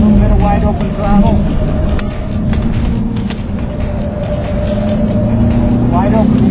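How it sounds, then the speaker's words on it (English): A Cadillac CTS-V engine pulls hard at wide open throttle, its rising engine note droning steadily inside the cabin while someone talks over it. "A little bit of wide open throttle."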